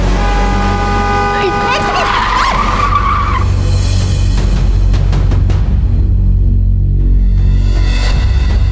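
A car skidding to a stop in a drama scene, with a loud rising tire squeal lasting a couple of seconds over a constant low engine rumble, then fading into steady background noise.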